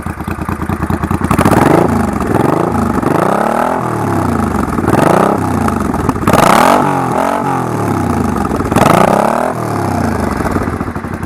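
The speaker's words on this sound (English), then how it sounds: "well, the sound of the exhaust" Loud, close exhaust of a 1985 Honda VT500 motorcycle revving repeatedly, with sharp rises and falls in pitch through a steady idle, alone without talk.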